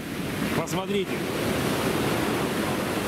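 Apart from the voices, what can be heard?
sea waves breaking on a black sand beach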